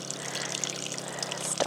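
Water runs and splashes into cooking pots at a camp in continuous faint trickling, with a brief clatter near the end.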